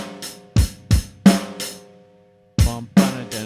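A drum kit plays one measure of punchy kick and snare hits in an uneven pattern, several close, loud strikes with short decays and a lull near the middle.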